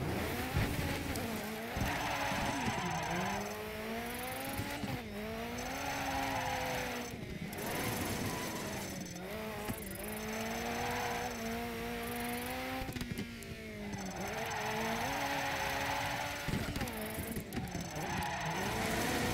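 In the racing game Dirt 3, a car engine revs continuously during a drift, its pitch repeatedly rising and dipping as the throttle is worked, loud and close throughout.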